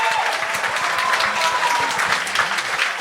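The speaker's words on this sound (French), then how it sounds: "On peut l'applaudir" Audience at a stand-up comedy gong show breaks into steady, dense applause that fills the whole stretch at even loudness, with no talk over it.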